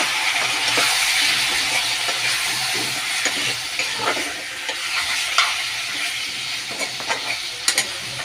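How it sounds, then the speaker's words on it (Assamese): Meat and new potatoes fry in a pan with a dense, continuous sizzle while a spatula stirs and scrapes at a steady pace, adding scattered metallic taps. Close and fairly loud, with no voices. "মাংসখিনি পানী নোলোৱালৈকে মাংসখিনি ধুনীয়াকৈ এনেকৈ ভাজি থাকিম"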